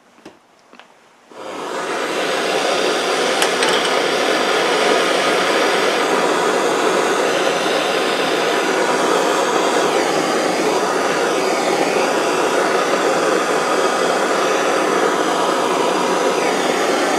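A heat gun blows hot air onto a shop part to loosen it, a loud, steady broadband roar that starts abruptly after a brief quiet moment and runs on unbroken; no voices are heard.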